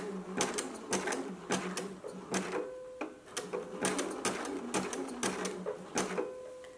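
Sewing machine stitching a gathering stitch over yarn, running in short bursts of rapid ticking with brief pauses, close and moderately loud with no talk.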